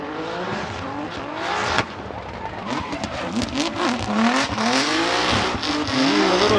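A Nissan R35 GT-R drifts sideways around Suzuka Twin Circuit during a Formula Drift Japan qualifying run, its engine revving and wavering up and down with tire squeal, loud and continuous.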